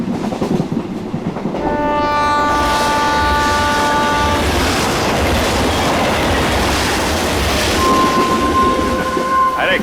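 A train rolls steadily along the railway with broadband rumble and rattle, steady horn-like tones sounding over it partway through and near the end; faint voices are briefly present.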